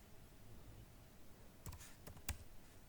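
A computer keyboard is typed on quietly as a web address is entered, with a few brief clicks of the keys clustered near the end after a faint background hush.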